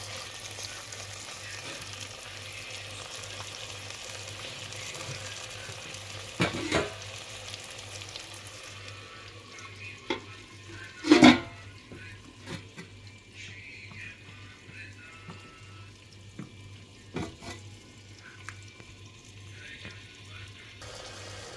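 Faint, steady sizzling of a spice tempering with red chilli frying in a pot, with a low hum underneath and a few clinks of stirring.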